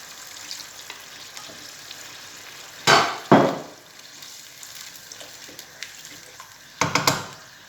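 A pan of fish paella with rice and peas simmering and frying, a constant close crackle, interrupted by a few loud scraping stirs and clanks, one pair in the middle and another near the end.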